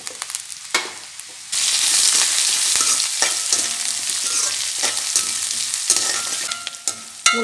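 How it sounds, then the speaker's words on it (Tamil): Onion, crushed garlic and curry leaves sautéing in a pan for horse gram sundal, a loud steady sizzle that jumps up partway through as ingredients go in, with occasional scraping stirs. "வெங்காயம் ஓரளவு வதங்கிட்டு நம்ம பூண்டு போட்டுடலாம்"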